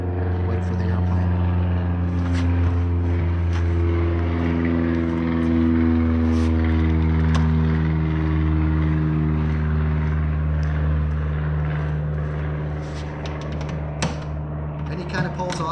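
A small light aircraft taxis along a runway, its propeller engine droning steadily with strong low harmonic tones that waver in pitch, loud and close for the whole stretch, with a few sharp clicks.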